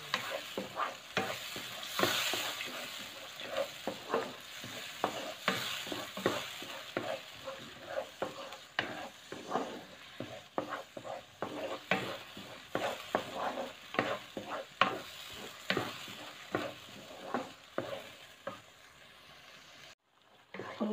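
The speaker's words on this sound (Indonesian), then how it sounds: "Sambalnya ditumis sampai matang" Sambal stir-fried in a pan until cooked, a long stretch of steady sizzling broken by dense, rhythmic scrapes and taps of a spatula against the pan, close and moderately quiet, with no talk.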